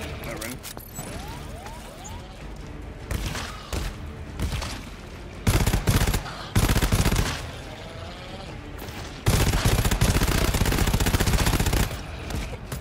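Automatic sentry turret in the co-op shooter GTFO firing at enemies, sustained bursts of rapid gunfire with mechanical clatter, loud in several stretches, with voices talking and game noise in between.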